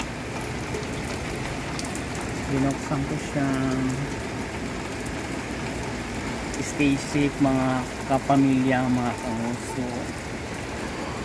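Heavy rain falls in a steady, dense hiss outside office windows while someone speaks intermittently over it at close range.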